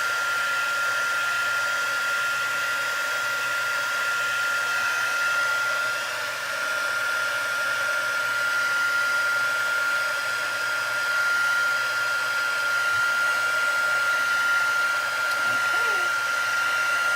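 A hair dryer blows steadily on a textured floral note card, a constant close whirring rush that holds without a break for the whole stretch.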